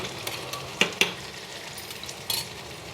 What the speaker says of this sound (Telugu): చికెన్ ఫ్రై కొద్దిగా చేసుకుంటున్నానండి